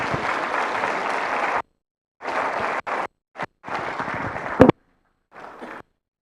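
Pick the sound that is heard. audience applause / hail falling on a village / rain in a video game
audience applause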